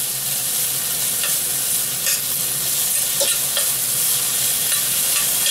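Pancetta sizzles steadily in a pan on low heat, with a few soft scrapes and clicks as it is stirred now and then, close and continuous with no talking.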